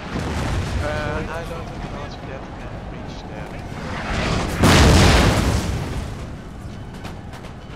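Howitzer artillery fire in a Napoleon: Total War battle: a deep, heavy boom swells midway through a constant rumbling battle din, while someone talks over it.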